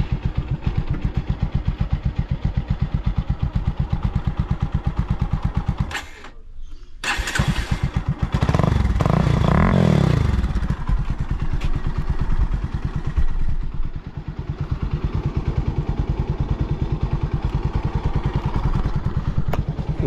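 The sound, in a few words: motorcycle engine and exhaust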